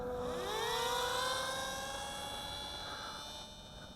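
Flybear FX861 J15 Flying Shark RC combat jet flying overhead, a high whining electric ducted-fan tone that rises in pitch and then holds steady at moderate distance.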